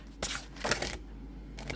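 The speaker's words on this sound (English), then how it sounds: "So these cards are really not easy to shuffle." A slippery tarot deck being shuffled by hand gives short papery riffling bursts, three or four quick flurries separated by quieter pauses, close and fairly soft.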